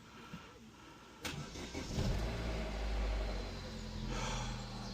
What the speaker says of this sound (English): so now the car should just start